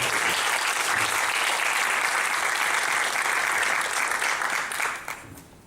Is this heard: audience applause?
yes